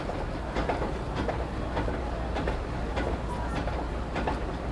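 A train sound effect in a school play staged by a young primary class, with a continuous rumble of rolling rail cars and faint clickety-clack at a steady, moderate level.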